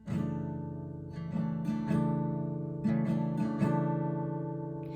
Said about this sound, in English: You can use a chord called C over G, and it sounds like this.